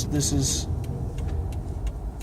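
Road traffic and car engine rumble heard from inside a moving car, a steady low drone with faint passing whooshes; a voice speaks briefly near the start.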